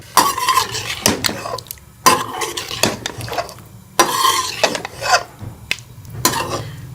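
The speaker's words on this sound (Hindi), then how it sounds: "इसको भी मिक्स कर लेंगे अच्छी तरह से चिकन के साथ।" Yogurt being mixed into chicken in a pot, with a spoon scraping and knocking against the metal pot in loud, close strokes that come in irregular bursts, with no talking.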